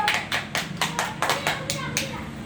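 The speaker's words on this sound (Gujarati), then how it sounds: "તાળી પાડો." Several people clap their hands together in a steady rhythm of about eight crisp claps at a small family gathering, with voices and children's chatter running underneath.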